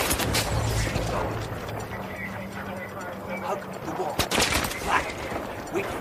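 Battlefield 3 gunfire rattles in quick bursts and single cracks, one loud sharp shot standing out near the end, mixed with shouted voices and clattering combat noise close by.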